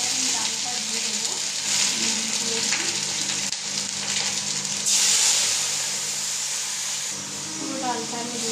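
Lentils (dal) tipped into a hot pan already holding whole cumin and chopped ginger, raising a steady, loud frying sizzle with a brief surge of hiss partway through; a voice talks faintly at moments.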